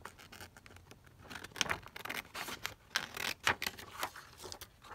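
Scissors snip through a printed acetate piece at a cardboard junk journal page, a quiet run of short, irregular crisp cuts and rustles close by.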